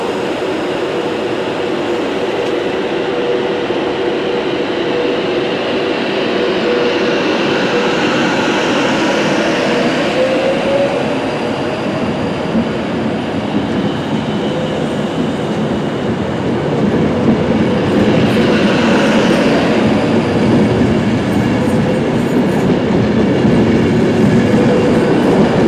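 A four-coach London Northwestern Railway passenger train rolls along the rails with a steady loud rumble and rhythmic clatter, occasional rising whines from the wheels, heard from inside.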